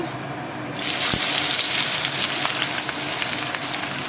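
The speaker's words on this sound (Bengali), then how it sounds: "তো এখানে তেল গরম হয়ে গেছে আমি পেঁয়াজ কাটা দিয়ে দিচ্ছি" Chopped onions dropped into hot mustard oil in a pan for a meat curry: a sudden loud sizzle bursts in after a quiet start and keeps hissing and crackling steadily close up.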